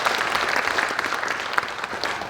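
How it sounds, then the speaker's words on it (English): Conference audience at a UN symposium high-level session applauds to welcome a keynote speaker, a steady wash of many hands clapping at moderate distance, fairly even throughout with no talking. "Please join me in welcoming her with a big,"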